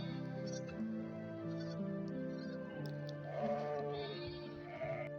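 Sheep bleat repeatedly at close range, wavering calls overlapping one another in a farmyard, with faint background voices and shuffling between cries.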